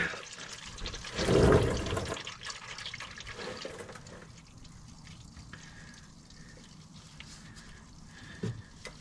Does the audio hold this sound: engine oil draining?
yes